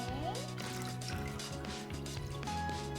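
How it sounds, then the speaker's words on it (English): Water is poured into a pot of sweet and sour meatballs in a home kitchen, a short continuous liquid splash and gurgle heard up close alongside faint background tones. "Here, you want to put this water in? Do you want to pour it in?"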